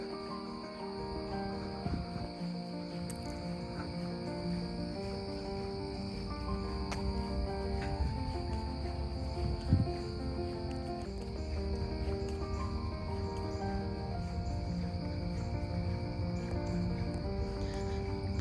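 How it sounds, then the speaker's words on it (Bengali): Crickets chirp in a steady, layered chorus at nightfall on a Michigan family farm, a faint continuous trill with no voices. "ঝিঝি পোকার শব্দ"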